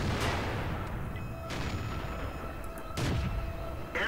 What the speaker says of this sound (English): Artillery! I need to kill it.